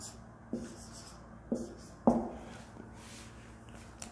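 Pen writing numbers on a board or paper during a class 6 maths lesson on natural and whole numbers, with a few distinct scratchy strokes spaced about a second apart and no talking over them.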